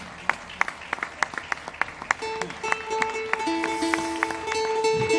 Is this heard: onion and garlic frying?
no